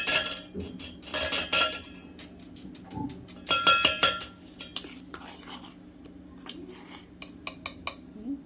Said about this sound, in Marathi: ह्याच्यात तांदळाचं पीठ आहे एक तीन चमचे टाकून घेऊयात आपण